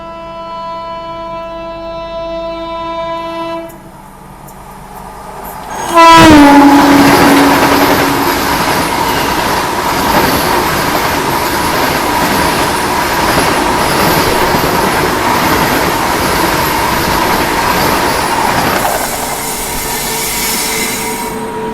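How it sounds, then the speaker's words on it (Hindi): A Vande Bharat Express overtakes at high speed on the adjacent track, its horn sounding first, then a sudden loud rush of wheels, wind and rail clatter that roars for about thirteen seconds before easing. "चलो अब इंजॉय करो आप high speed overtake Vande Bharat express से।"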